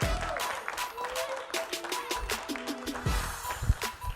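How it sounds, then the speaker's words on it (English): A comedy club audience claps and cheers as a comedian comes to the stage, with scattered hand claps and crowd noise over music in the room, moderately loud and continuous. "Big round of applause for Prateek Srivastava"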